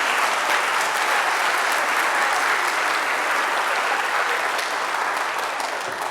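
School concert audience giving 7th grade orchestra players a round of applause, a dense, steady burst of clapping holding evenly loud throughout.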